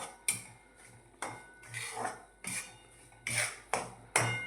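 Semolina flour roasting in a pan while a metal spoon stirs it, giving about seven sharp clinks and scrapes against the pan spaced roughly a second apart.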